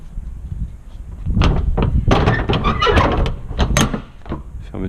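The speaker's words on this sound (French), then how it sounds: "Fermeture des portes et la bonne vérification de cette fermeture." Doors on a truck's cargo body are swung, latched and checked during a pre-trip inspection, giving a loud sequence of close metallic clunks, rattles and thumps over roughly three seconds.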